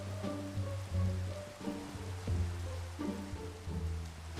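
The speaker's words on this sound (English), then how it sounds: "It's raining? Really?" Rain falling in the Minecraft video game, a soft, steady patter heard faintly beneath low droning background tones with no talking.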